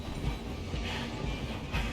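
Train rumbling along the rails in the Red Dead Redemption 2 video game, a steady, dense mechanical roar with faint clatter that holds loud and continuous from start to end, with no voices over it.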